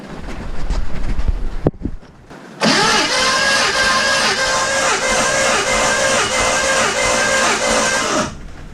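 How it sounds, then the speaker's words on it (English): A Ford 351 V8 in an XB Falcon, spark plugs out and throttle wide open for a compression test, cranks over with a fast, even starter whir and rhythmic pulsing that runs several seconds before abruptly stopping. "now I'm just going to crank until I have all the numbers that I need."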